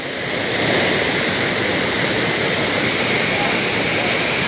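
Loud, steady roar of a tall waterfall in the Sahyadri mountains, a dense continuous rush of falling water from start to finish.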